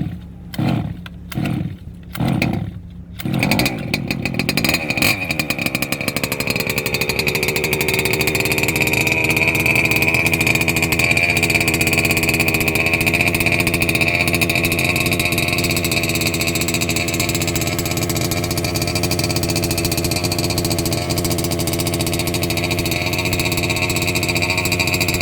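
Small gas engine, running unsilenced, with several quick cranking pulls and then a loud, steady close-up running drone that settles into a constant rumble for about twenty seconds.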